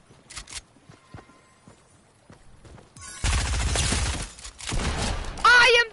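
A squad match in a shooter game opens quiet with scattered single shots. Dense, loud bursts of automatic gunfire then break out and run for about two seconds, with excited talking over the shooting.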